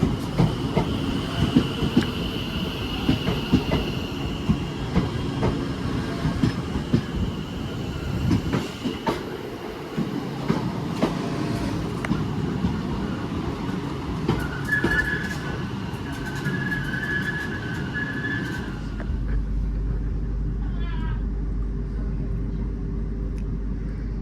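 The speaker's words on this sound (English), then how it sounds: "here comes my train to take me to Bescot Stadium" A West Midlands Railway train on the Walsall line arrives and passes close by, with a rolling rumble and clickety-clack of wheels over rail joints. A brief high brake squeal follows, then the train fades, leaving low wind noise.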